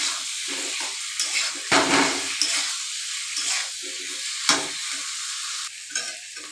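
Potatoes with salt and turmeric stir-fry for aloo dum, loud spatula scrapes and clatters over a bubbling sizzle, the stirring coming in uneven bursts close up with no voice.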